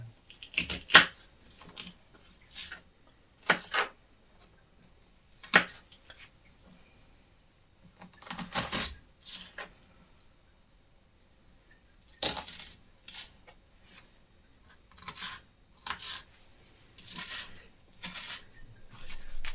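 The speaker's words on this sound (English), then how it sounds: "Let's get the edges of the onion off. And let's cut these again." A knife cuts onion slices on a board, trimming the edges and slicing again: sparse, soft chopping taps and scrapes in irregular clusters with quiet gaps between, close but faint.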